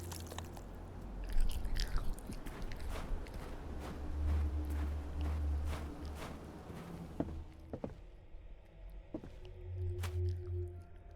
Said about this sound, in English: Wet chewing sounds.